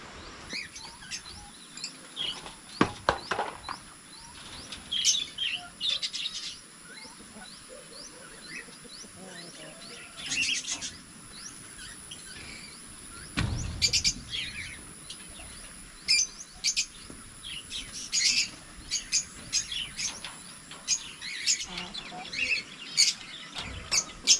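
Small birds chirp and tweet in scattered bursts over a steady high hiss, with a few sharp clicks now and then.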